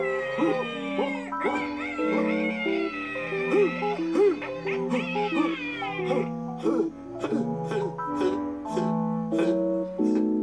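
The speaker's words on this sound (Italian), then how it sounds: "il gatto miagolò con tutto il fiato che aveva in gola" A cat in a Bremen Town Musicians story recording meows loudly and repeatedly in long drawn-out yowls amid a chorus of other animal cries, with music-like tones running underneath.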